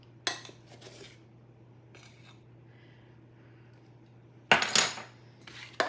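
Metal measuring spoons clink against each other and a bowl while baking powder and baking soda are measured for pumpkin cookies, a sharp rattle near the start and a louder cluster of clatters near the end, with quiet gaps between.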